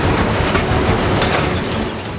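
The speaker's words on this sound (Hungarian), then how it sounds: "A gép, ami kicseréli maga alatt a vasutat." A track renewal machine works loudly and continuously on a railway line being built near the Arctic Circle, giving off a dense, steady roar of heavy rail machinery with metallic clatter and faint squeal throughout.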